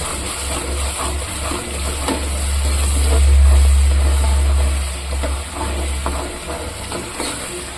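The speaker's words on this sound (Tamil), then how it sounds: "இந்த கிரேவி வந்து நல்லா கொதிக்கணும்" Mushroom pulao masala gravy bubbling in a pan produces a continuous busy hiss and sizzle, with soft popping and crackling throughout. It is steady and close, with no voices.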